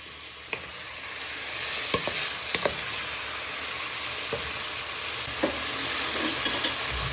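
Onion, garlic and chilli stirred in a sizzling pan for a chilli pork casserole: a steady bed of frying hiss with scattered sharp spoon knocks and scrapes against the pan.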